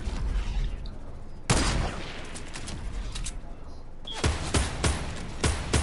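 Fortnite gunshots ring out as a loud blast followed by several sharp repeated shots, spaced a little unevenly and set against steady in-game background noise.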